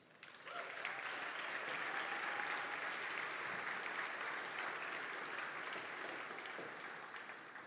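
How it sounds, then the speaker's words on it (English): Sustained audience applause for the volunteers at a FIRST Tech Challenge robotics competition, a dense steady wash of clapping that rises quickly and holds for several seconds before easing slightly, with faint crowd murmur beneath. "Let's show your appreciation to the terrific volunteers making this event fun"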